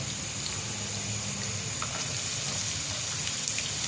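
A small onion sizzles steadily in a pan over full heat while cabbage zunka is being made, a close, even frying hiss with faint crackles throughout and no talk.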